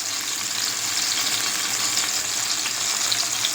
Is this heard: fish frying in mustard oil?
yes